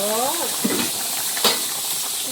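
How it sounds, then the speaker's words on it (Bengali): Potatoes frying in a pan: a steady, soft sizzle with a couple of brief stirring clinks, heard close by and partly under a speaking voice. "আলুটা চাপিয়ে দিয়েছি এটা ভাজা ভাজা হচ্ছে"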